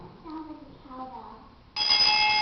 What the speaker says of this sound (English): that was a school bell